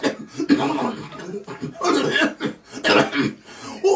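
A person coughs repeatedly during a live stream, giving several rough bursts spread through the clip alongside a voice that talks in between.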